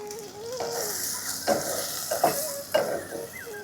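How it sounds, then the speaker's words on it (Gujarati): Green peas and chopped onion with turmeric and a splash of water sauté in a pan, giving a steady soft sizzle broken by a few louder scraping stirs of a spoon. "વટાણાને થોડા શેકાવા દઈશું."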